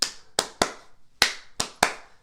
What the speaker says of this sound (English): Kids will clap in 3.